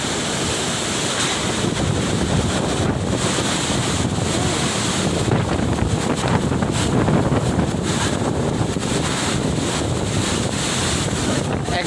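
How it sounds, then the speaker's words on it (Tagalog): Strong typhoon wind roars in Calauag, Quezon, buffeting the microphone in a loud, continuous broadband rush with gusting surges throughout. "Sobrang lakas ng hangin dito."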